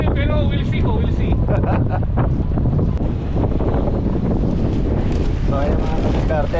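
Strong wind buffets a microphone on a fishing trip out on the water, a loud, continuous rumbling roar that barely lets up, with faint voices now and then beneath it.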